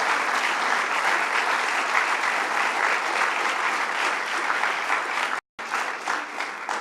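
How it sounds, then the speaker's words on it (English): Dense, steady applause from an audience greeting Bronx Borough President Ruben Diaz at a Governor Cuomo jobs program announcement, loud and sustained with a brief dropout near the end. "Let's give a big round of applause to Borough President Ruben Diaz."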